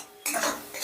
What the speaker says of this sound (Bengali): এবার মশলাটাকে বেশ ভালো করে কষে নেব